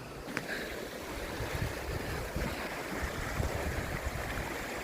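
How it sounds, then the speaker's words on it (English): A flooded burn in spate, running as a raging torrent past boulders, gives a steady, dense rushing roar of fast water close by, continuous throughout with no voices. "It's a raging torrent."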